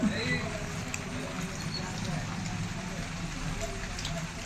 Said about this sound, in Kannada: ಈಗ ಸ್ಟಾರ್ಟ್ ಆಗೈತೆ ಮಳೆ